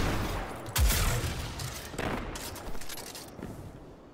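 Submachine gun fire in the video game Destiny 2, with several bursts of rapid gunshots and a heavy boom near the start, loud and close, fading in and out over a steady background rumble.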